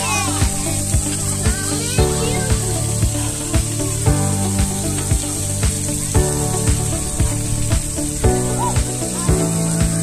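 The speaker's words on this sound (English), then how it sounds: "Got this cool waterfall right here." Waterfall in Stanley Park, Vancouver, with ice-cold water: a continuous close rush and hiss of falling water, with children's voices and shouts mixed over it.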